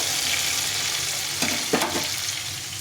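A large tomato fries in a pan for a cauliflower, pea and paneer curry, giving a steady loud sizzle with a couple of brief stirring scrapes near the end.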